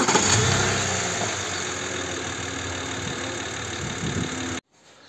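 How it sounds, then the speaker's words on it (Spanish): Steady idle of a BMW 330i E92 engine running with engine cleaner added to it, a constant mid-range hum with no voices, cutting off abruptly near the end. "ya con el producto dentro vamos a arrancarlo y lo dejamos unos 15 o 20 minutillos funcionando"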